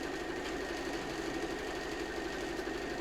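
A sewing machine stitching a quilted placemat, running in a steady, fast mechanical whir with a continuous buzzing rattle, close and even throughout with no pauses.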